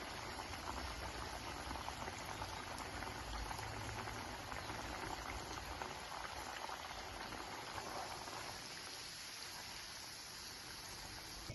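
Amaranth leaf and liver fry bubbling in hot oil in a pan, a constant dense crackling fizz that holds steady and fades slightly near the end, quiet and close, no talk.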